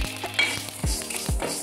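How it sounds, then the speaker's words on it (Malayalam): Mustard seeds and cumin sizzling in hot oil for a lemon pickle tempering, a close crackling fry with a few sharp pops and stirring clinks of a spoon against the pan. "കടുക് പൊട്ടി വരുന്നുണ്ട്."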